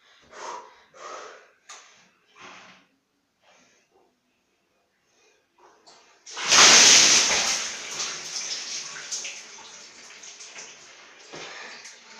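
A bucket of ice-cold water is poured over a person outdoors in warm weather: a sudden loud, close splash and rushing gush follows several short breaths, then trickling water and gasping breaths.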